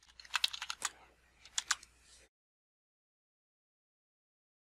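Keys tapped on a computer keyboard while a name is typed into a construction materials list, a quick close run of clicks followed by a short second burst, then silence.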